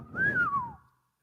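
A person whistles in imitation of a bird call, a single clear note that rises briefly and then slides downward, close and alone.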